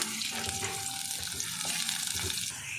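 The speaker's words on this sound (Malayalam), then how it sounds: "നെയ്യ് ചൂടായിരിക്കുന്നു. നമുക്ക് കാഷ്നട്ട് ചേർത്ത് കൊടുക്കാം." Cashew nuts frying in hot ghee for prawn biryani give a dense, continuous hiss of sizzling, close and steady, with faint stirring underneath.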